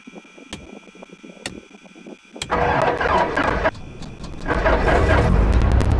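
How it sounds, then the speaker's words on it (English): A Cessna 172 engine in the X-Plane 11 flight simulator is heard with a few clicks, then a starter cranking and the engine catching, rising into a loud, steady run near the end. "As soon as the engine cranks, I'm gonna put mixture full ahead."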